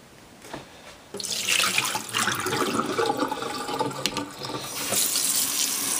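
Water is dumped out of a sprouting tray into a sink, starting abruptly after a quiet second and pouring in a loud, close, splashing rush that tapers off near the end.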